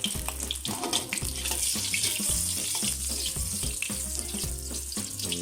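Steady hiss of pork frying in a little hot oil in a deep pan, with crackles and sputters running continuously at moderate loudness, no voices.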